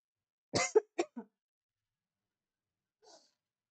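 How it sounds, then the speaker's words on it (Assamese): A person with a cold coughs in a short burst of three or four harsh coughs, close and clear, then a faint throat sound follows after a pause; no speech. "চৰ্দি লগাৰ কাৰণে কাহ অলপ উঠিছে"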